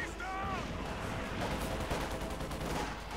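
Gunfire in the Company of Heroes 2 strategy game, a dense continuous battle rumble of shots and explosions at steady loudness, with a voice faintly present.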